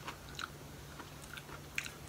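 Crunchy British snack being chewed, quiet irregular crisp bites and crunches close to the mouth, faint and sporadic over low background hum, with no talk.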